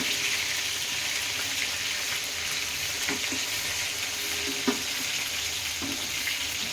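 Apollo fish fries in a pan as a dense, even sizzle that holds at the same level, with a few soft clinks and taps as the pieces are turned.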